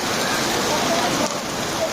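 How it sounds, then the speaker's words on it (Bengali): Torrential midnight rain during Durga Puja festivities, a continuous loud hiss and patter of drops on surfaces, close and unvarying. "মধ্যরাত্রিতে শুরু হয়ে গেল প্রচণ্ড বৃষ্টি।"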